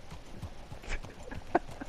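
Horse hooves clip-clopping in Red Dead Redemption 2 Online, a quick run of soft, uneven beats with one sharper knock near the end, fairly faint, with no talk over them.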